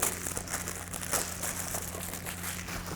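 Plastic film wrapping on a graphene coating product package crinkles and rustles steadily for a few seconds as it is peeled off, close and fairly quiet, with no voices.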